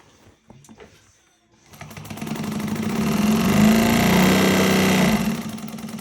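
A Juki 1541s industrial sewing machine runs a burst of stitching, quickly building to a steady, loud, close mechanical whir with rapid needle rhythm, then easing off near the end after a few quiet ticks at the start.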